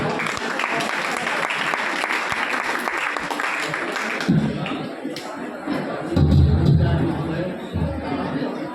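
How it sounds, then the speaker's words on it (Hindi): A crowd at a college orientation event in a hall applauds to welcome a professor, with a thick wash of clapping for several seconds that gives way to thumps, movement and murmuring voices. "प्रोफेसर चितरंजन सिंह, आप तालियों से उनका स्वागत करें।"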